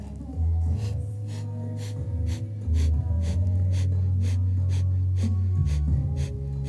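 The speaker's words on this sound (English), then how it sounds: "So let's go ahead and begin our breath of fire." Breath of fire yoga breathing: a rapid, rhythmic series of sharp nasal exhalations, roughly two per second, close and clear over a low steady hum.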